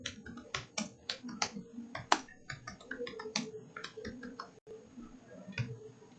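A computer mouse clicks repeatedly while a flow is saved in Salesforce: a dense run of sharp, close, dry clicks in uneven bursts over steady low room noise, with no voices.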